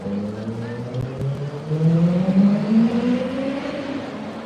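A bus drives past on a London street, its engine note rising and falling as it approaches and moves away, fairly close, with people talking nearby.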